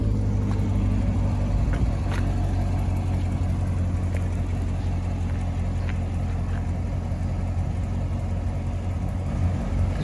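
A 2017 Chevrolet Corvette Grand Sport engine idles steadily and fairly loud throughout, a constant low rumble with no speech.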